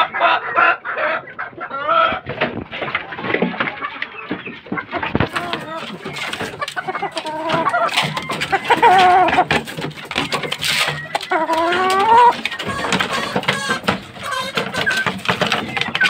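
Chickens at a farm with a white Kelso hen and fighting cocks, clucking and squawking close by, with occasional rooster crows, while someone talks over the birds.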